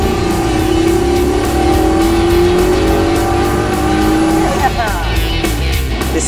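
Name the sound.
SSC Ultimate Aero turbocharged supercar accelerating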